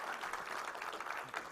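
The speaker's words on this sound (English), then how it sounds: "A round of applause for all of them." An audience at a general meeting gives a round of applause, a faint, steady patter of many hands clapping at a distance.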